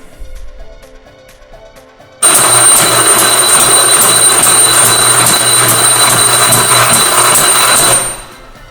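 A voltage regulator's tap changer mechanism driven to its extreme +16 position gives a loud, steady mechanical whir with a faint repeating tick, starting abruptly after a quieter stretch and running continuously before cutting off near the end.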